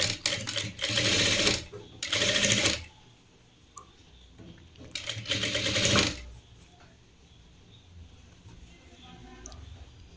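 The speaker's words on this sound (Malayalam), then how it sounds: "ഇനി ഇവിടുന്ന് അങ്ങോട്ട് ഒരു 4 ഇഞ്ച് ഇങ്ങനെ ഇതിൻ്റെ അരികിലൂടെ അങ്ങനെ തയ്ച്ച് പോരാം." A sewing machine stitches along a fabric edge in three loud rapid bursts, the last longer, separated by quiet pauses where faint ticking remains.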